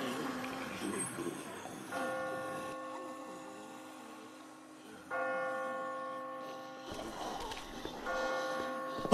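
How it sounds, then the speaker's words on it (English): Church bells toll in The Walking Dead Season 1 video game, several sustained ringing strikes that swell and fade in turn over a quiet, eerie background, fairly loud and alone without talk. "I just got spooked by those bells"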